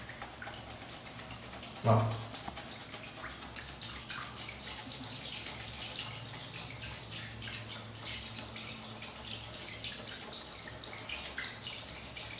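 Tap water runs steadily into a sink while makeup brushes are washed with shampoo and olive oil, a brief knock near the start and a soft word spoken once.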